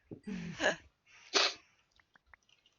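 A single sharp human sneeze from a gamer at a headset mic, with a breathy lead-in, then a second burst and a few faint clicks and sniffs trailing off.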